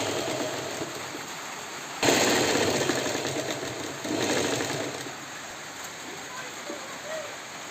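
A sewing machine stitching fabric, with the garment turned inside so the side seam can be sewn, runs as a steady whirring drone that grows louder in bursts at about 2 and 4 seconds before easing back.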